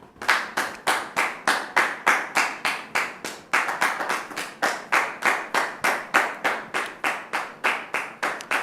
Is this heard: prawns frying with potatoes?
no